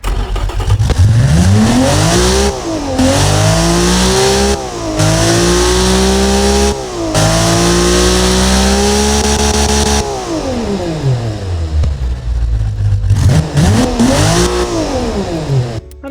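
A Nissan S20 replica engine, built in the Automation car-building game, revs repeatedly with smooth, sporty tone, climbing and falling through several loud sweeps separated by brief cuts, with no talk.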